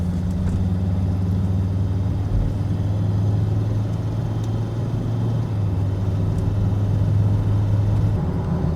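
Volvo XC90 with 163 horsepower on a steady drive, with a continuous low engine drone and road rumble heard from inside the cabin, unbroken and moderately loud throughout.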